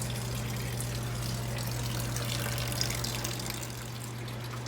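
Coolant draining from the radiator drain of a Dodge 5.9L engine, a steady close trickle of liquid running without a break over a low constant hum.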